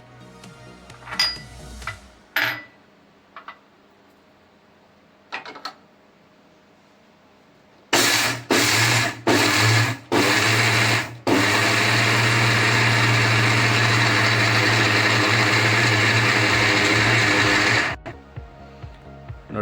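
A mixer grinder jar crushes peanuts, sesame and grated dry coconut, starting with several short loud pulses before settling into a long continuous whirring grind that then cuts off.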